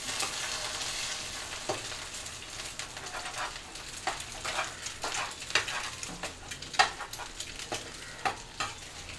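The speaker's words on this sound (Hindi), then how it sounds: "अभी अंडे को अच्छे से फ्राई कर लेंगे।" An egg fries in a pan for an instant-noodle masala dish, with a constant sizzle and repeated scraping and tapping as a spatula stirs it, some strokes louder and closer.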